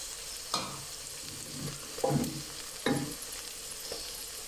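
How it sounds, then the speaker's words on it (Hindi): Okra (bhindi) fries in a pan with a constant close sizzle, and a spatula scrapes and stirs it in four or five distinct, evenly spaced strokes. No one speaks. "हमारी अब हो रही है भिंडी फ्राई"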